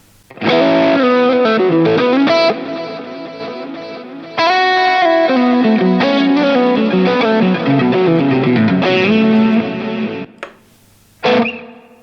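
A distorted electric guitar played through a Line 6 HX Stomp with delay and reverb plays a sustained lead solo thick with effects, bending and ringing notes, breaking off briefly near the end before one last chord.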